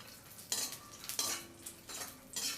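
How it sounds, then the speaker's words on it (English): Cashew nuts stirred in ghee in a kadai, a spoon scraping the pan in three or four short strokes over a faint background sizzle, close and quiet. "Add in 2 tablespoons cashew nuts and lightly roast the cashew nuts."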